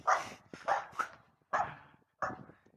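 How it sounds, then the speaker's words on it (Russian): A dog barks at a tour guide in the Old Tatar quarter, giving four sharp barks with short gaps between them. The barks sound close and carry clearly, with no talk over them. "собака лает на экскурсовода"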